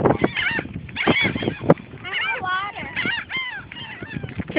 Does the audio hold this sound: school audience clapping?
no